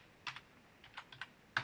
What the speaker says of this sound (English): And hit down again on your keyboard